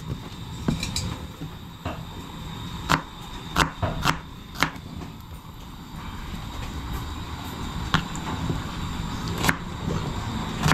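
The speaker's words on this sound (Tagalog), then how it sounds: "gayat na tayo ng ating sibuyas para sa ating sinigang" A knife chops onions for sinigang on a cutting board, giving irregular sharp taps close by, some in quick clusters, over a steady background hum.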